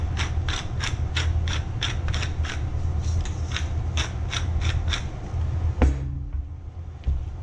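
A hand-cranked pepper mill grinds black pepper in a home kitchen, a steady run of crisp, rhythmic crunching twists, close and fairly loud, stopping after about five seconds, followed by a clunk and quiet.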